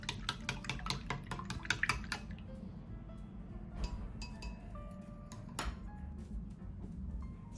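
Whisking egg and mirin in a bowl, a quick series of light clicking taps of utensil against the bowl, quiet and close, thinning into sparse ticks.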